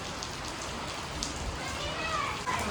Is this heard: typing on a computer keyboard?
no